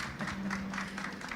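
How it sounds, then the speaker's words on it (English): Brief audience applause at a conference, a soft continuous patter of clapping with a faint murmur of voices underneath. "A round of applause."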